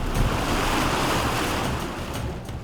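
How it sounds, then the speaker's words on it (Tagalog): Rushing stream water, a forest creek that swells like a river in heavy rain, heard as a loud, broad, close hiss of flowing water with some wind buffeting and no voices. "Ang batis na ito, nagmimistulang ilog sa tuwing umuulan ng malakas."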